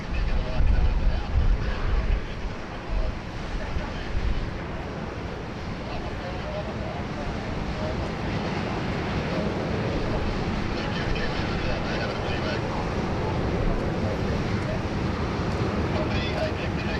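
An Air New Zealand airliner landing at Sydney Airport, a steady broad roar of jet engine and wind rush holding evenly throughout, louder at the start, with outdoor wind noise on the microphone.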